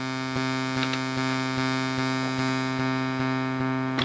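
A steady, harmonically rich synth bass buzz from an Elektron Digitakt drones on through a low-pass filter, with a faint rhythmic pulse ticking through it, no voices.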